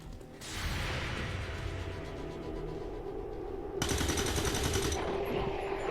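Enemy gunfire in the XCOM 2 video game, loud sustained automatic bursts running throughout with a sharper, brighter burst of fire near the end, no talking.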